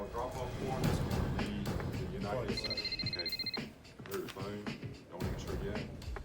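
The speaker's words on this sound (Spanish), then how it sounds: "Esa tarde, el teléfono de Paulo sonó." A telephone rings in a repeated electronic trill, mid-loud, over a busy dramatic score and narration.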